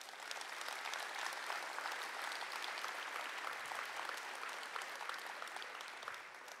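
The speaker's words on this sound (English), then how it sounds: "give our speakers one more round of applause" A conference audience claps for speakers after a morning session of lightning talks. The applause is a continuous, even round of many hands lasting several seconds before it tapers off, heard at a moderate distance with no talking.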